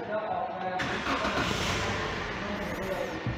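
An EFI engine cranks and catches while in neutral, settling into a steady running note, with voices talking over it.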